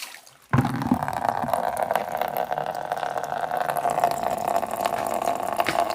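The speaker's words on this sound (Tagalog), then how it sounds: "Lakas ng tubig." Water gushing strongly from a natural spring: after a quiet start, a sudden onset of loud, steady splashing and rushing flow that continues close by for several seconds.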